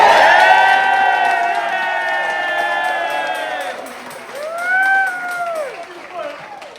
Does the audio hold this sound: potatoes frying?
no